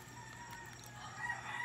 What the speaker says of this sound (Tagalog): Ang ingay na ng mga manok, madaling araw na kasi.